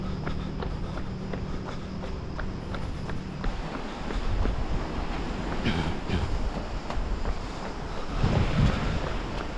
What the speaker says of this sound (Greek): Δεξιά μου είναι η θάλασσα